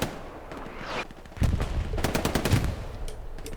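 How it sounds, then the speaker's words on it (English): An MG42 machine gun in a competitive multiplayer war game fires in rapid rattling bursts, loud and close, over a low background of battle noise with other distant gunfire. "that just guy got absolutely fucked by Gun Show Joe with his MG42."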